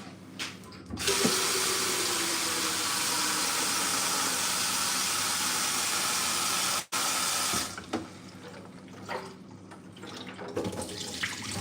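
Water runs steadily into an air fryer basket for about seven seconds, a loud continuous pouring rush, then stops briefly and resumes as lighter trickles and splashes.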